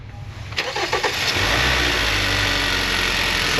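A Hyundai Santa Fe with low power and poor acceleration starts up close by: a brief cranking whir catches, then settles into a loud, steady, even idle drone, with no voices.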